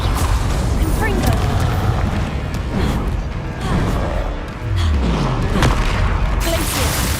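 Confringo spell explosions in the Hogwarts Legacy video game make heavy booms and crashing impacts in quick succession over busy game noise, with voices mixed in.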